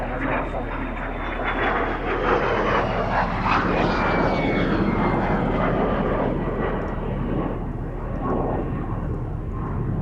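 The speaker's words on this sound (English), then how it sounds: "Incredible to think that the Vampire was the first jet to cross the Atlantic Ocean." A de Havilland Vampire jet aircraft roaring past at the Midlands Air Festival, a loud sustained engine rumble and whine that swells and shifts in pitch over ten seconds with no talk.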